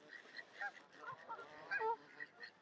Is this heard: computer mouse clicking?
no